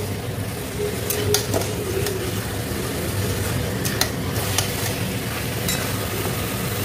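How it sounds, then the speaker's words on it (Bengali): Chicken pieces fry with garlic in a pan, giving a continuous low sizzle and rumble with occasional light clinks of a utensil against the pan, and no voices. "এবার চিকেনগুলোকে একটু ভাজা ভাজা করবো"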